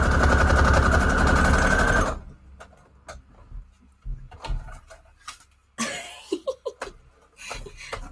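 A sewing machine runs steadily, stitching scrap paper guest checks in one loud continuous burst, then stops, followed by scattered clicks, taps and handling noises at close range.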